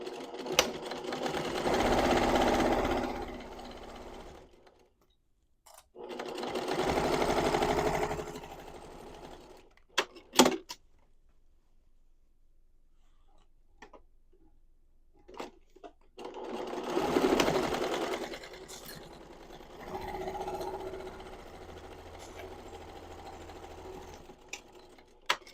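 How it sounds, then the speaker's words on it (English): A sewing machine runs in three long bursts, stitching the side seam of a knitting tote bag at a quarter-inch seam allowance, with quiet pauses and small clicks between runs. "you're going to sew down the side seam at a 1/4 inch seam allowance"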